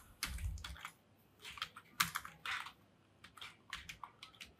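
Someone types C code on a computer keyboard in short bursts of close, soft key clicks separated by pauses, with no talking.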